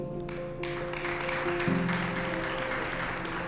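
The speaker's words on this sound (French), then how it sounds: "applaudissez pour lui" Applause rises from an audience at a Congolese community celebration in Vermont as the ALV association president stands; steady clapping fills the room over background music with sustained tones, with no clear talk.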